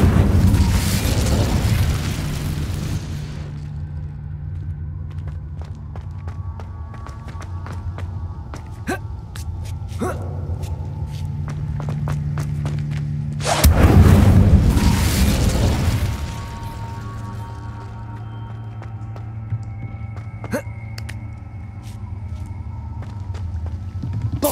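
An Incendio fire spell cast in Hogwarts Legacy: two loud, roaring whooshes of flame, the first at the start and the second midway, each with a deep rumbling body, and clicks and faint effects in the quieter gap between them.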